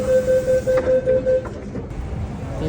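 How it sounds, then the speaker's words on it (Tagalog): Train running on the Hong Kong railway, a series of regular electronic beeps at the start, then a steady rumble of the moving carriage. "Ganun kabilis yung train dito."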